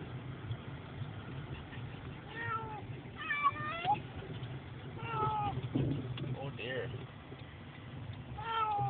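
Cats meow repeatedly inside a car, several drawn-out cries rising and falling over a low rumbling hum, with a voice speaking briefly.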